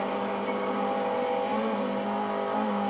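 Mitsubishi Colt engine in Forza 4 holding a steady high-revving drone in sixth gear near top speed, a constant loud whine with no pauses or talk.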